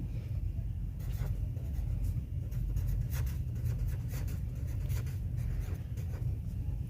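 A formula is written out by hand in a quiet room, with faint, continuous scratchy pen strokes and small tapping marks over a low background hum.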